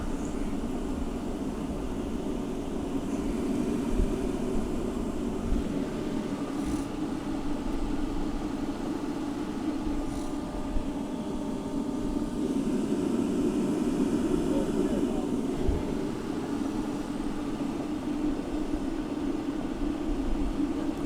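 Oil burners firing on a Stepp 20-120 tack tank, one of them putting out black smoke, make a steady, loud roar with a low rumble that holds unbroken for the whole stretch, with no voices.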